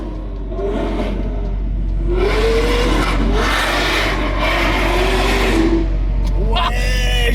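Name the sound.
Lamborghini Aventador SV engine revving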